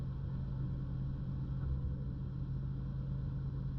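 A manual car's engine held at around 1500 RPM with the clutch in, giving a steady, low, droning rumble up close with no talking.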